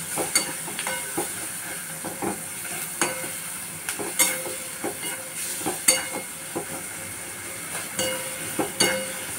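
Roasted eggplant mash (baingan bharta, vangyache bharit) being stirred and mixed in a pan: a steady run of close, sharp spoon scrapes and soft squelches with light sizzling beneath, in an irregular stirring rhythm.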